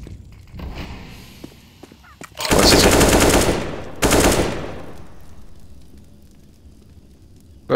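AWP sniper rifle shots in a Counter-Strike match, two loud booming blasts a second and a half apart, each trailing off into a fading echo over background game noise.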